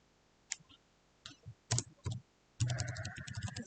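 Typing on a computer keyboard while entering a report name in accounting software: scattered single key clicks at first, then a fast close-up burst of keystrokes.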